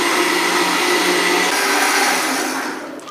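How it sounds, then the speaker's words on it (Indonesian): A kitchen blender runs on a small batch of pond-water treatment mix, whirring loud and constant close by before easing off slightly at the end, with no voices. "jalankan mesinnya, kita blender sahabat"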